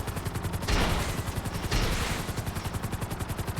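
Helicopter missiles fire in a video game: two loud whooshing launch bursts over a rapid, rhythmic rotor chop that continues throughout.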